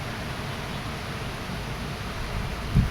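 Heavy rain falls steadily outside a home gallery, a soft, even hiss with a faint low thump near the end and no voices.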